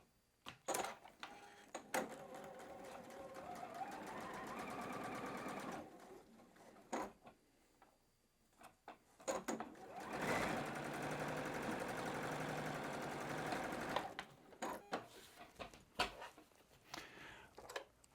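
A sewing machine stitches a quarter-inch seam on a churn dash quilt block, running in long steady whirring bursts with short pauses and clicks between them.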